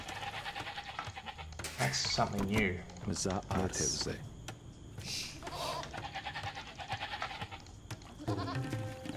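Sheep bleat repeatedly in the Age of Empires II game, Georgians on an African Clearing map, several short wavering calls layered with game sounds while someone speaks briefly over them.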